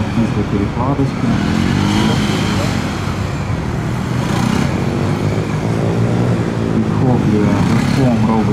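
Bajaj Dominar 400 motorcycle ridden through a gymkhana course at a 2020 competition, its engine droning steadily and shifting pitch as it weaves, heard throughout under continuous commentary talk.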